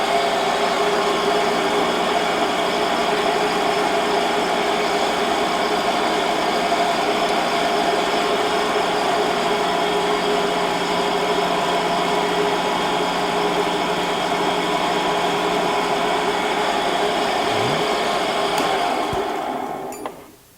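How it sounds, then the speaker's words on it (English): Steady, continuous whine and hum of a machine running in back gear while cutting a countersink in a hole for a saw base, level and unbroken for about twenty seconds before winding down at the end. "we're going to throw a generous countersink on there. Kick it over into back gear."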